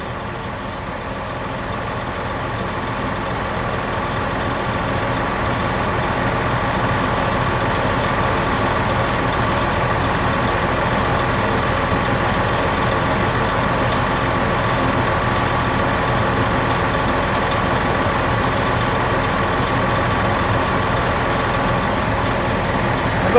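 Old truck with a fully rebuilt engine idling, a steady low mechanical drone that holds constant and close throughout with no talk.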